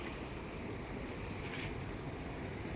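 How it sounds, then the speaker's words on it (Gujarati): Sea waves washing onto the shore at Diu, a steady, broad roar of surf and wind that holds without a break. "દરિયો મોજા મારે"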